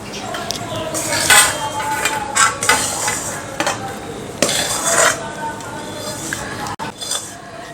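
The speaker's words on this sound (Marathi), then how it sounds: "आता या लाह्या आपण एका ताटामध्ये काढून घेऊया" Puffed sorghum (jowar) popped grains in jaggery syrup are scraped from a pan onto a metal plate, with repeated clinks, scrapes and utensil knocks in an irregular rhythm, close and fairly loud throughout.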